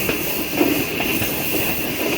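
The 104 Down Subak–Kharram rail car rolls along the tracks on its inaugural run near the Suhawa tunnels, giving a loud, steady rumble with a hissing wash and faint rhythmic clatter from the wheels.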